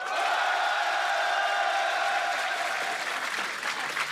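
A French television studio audience applauds, a dense, loud burst of clapping with some cheering that stays strong and then eases slightly toward the end.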